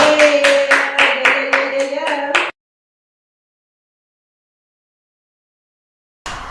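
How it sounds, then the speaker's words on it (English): A small group claps for a game show contestant for about two and a half seconds, a close, rhythmic run of hand claps over a sustained tone that cuts to silence. "Round of applause for contestant number 20."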